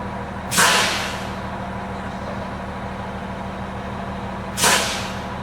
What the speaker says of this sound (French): Maintenant, je vais aller peser sur les freins.